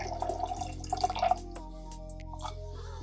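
Hot salt water is poured into a container at home, making a close, faint trickle with dripping that tapers off into quiet.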